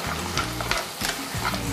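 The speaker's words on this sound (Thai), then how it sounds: "กระดกกระทะแล้วได้ยินเสียงฝาหอยกระแทก" Clam shells clatter and rattle in bursts as a wok is tossed, over a steady sizzle of frying.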